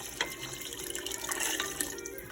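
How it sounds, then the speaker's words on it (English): Chicken stock and water pour steadily into a pot for Louisiana gumbo, a continuous splashing, gurgling liquid sound heard close up without talk. "we've got 32 ounces of a combination of chicken stock and water"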